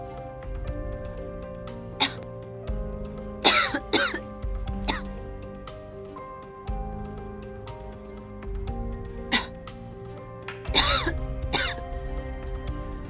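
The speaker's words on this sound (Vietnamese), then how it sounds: "Sao ho dữ vậy?" Heavy, harsh coughing fits in a drama scene, several clusters of loud hacking coughs with quieter breathing and throat sounds between them.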